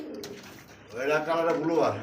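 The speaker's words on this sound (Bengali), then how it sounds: "চমৎকার একটা লাহোরের সিঙ্গেল একটা কবুতর দেখেন" A Lahore pigeon gives a soft, close throaty coo, a rolling burst lasting about a second after a quieter start, heard alone without talk.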